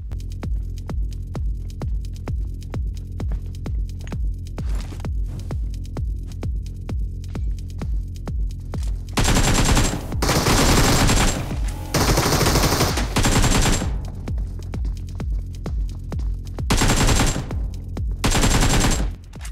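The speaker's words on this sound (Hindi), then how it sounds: "क्योंकि यार फायरिंग आई है, तो भाई चलते हैं उसकी तरफ।" Bursts of automatic gunfire in the battle royale mobile game BGMI, an AKM with a 6x scope in play, rattling out in several loud volleys over a steady background hum.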